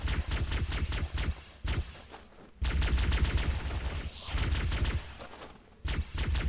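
Rapid bursts of video-game gunfire from Halo: Combat Evolved crackle in close, loud volleys separated by brief pauses.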